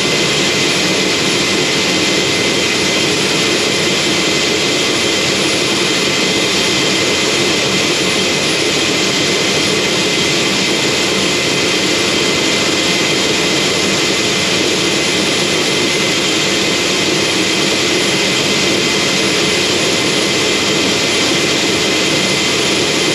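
A GTCP85-98C APU gas turbine runs at a steady, loud roar with a high whine, fuel pumped into its exhaust to make smoke; the sound holds constant throughout with no talking.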